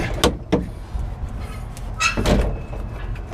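Refrigerated trailer doors swing open with a couple of clanking metal knocks and a rattling latch, followed by a heavier thud and rumble nearby.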